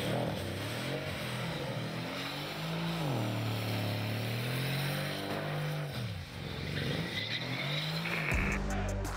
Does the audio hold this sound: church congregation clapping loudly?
no